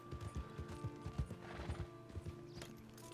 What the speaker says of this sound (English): Come on, horse. We're going to cross a river.